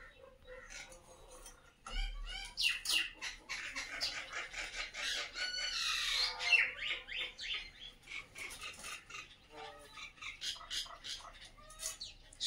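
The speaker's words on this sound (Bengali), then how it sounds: "শালিক গুলো কিচিমিচি করছে।" Mynas and crows chatter together over scattered food, a busy, overlapping tangle of squawks and chirps at moderate distance, opening with a dull thump.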